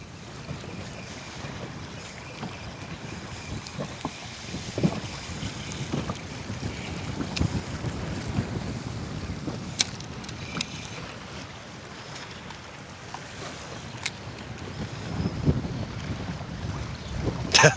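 Wind gusting outdoors by the water at a sailing race on a lake, a steady low rumble of wind buffeting the microphone with occasional louder gusts, no talk.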